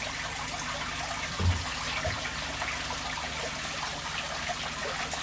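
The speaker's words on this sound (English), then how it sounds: "It's quite nice with the trickling effect in the background there." Aquarium water change, with a soft steady trickle of water running continuously at low level and one brief thump near the start.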